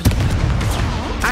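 Confringo fire spell blasting in Hogwarts Legacy on PS5: a loud, dense burst of explosive, crackling energy lasting about a second, close and forceful.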